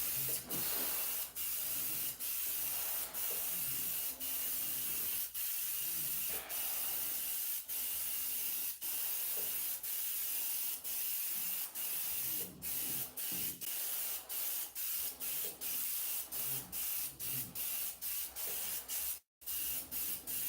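A sprayer coats the cracked wall of a fiberglass tub with a steady, close hiss, broken by regular brief pauses as the trigger is released, with one clear stop near the end.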